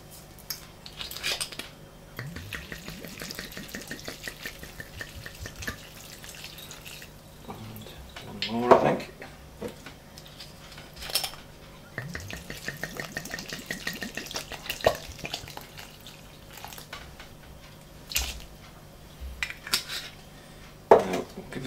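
Leaves being stirred in white wine vinegar in a bowl, giving soft clinking and scraping utensil sounds with small liquid drips, close and moderate, in brief bursts spread through the clip with no talking.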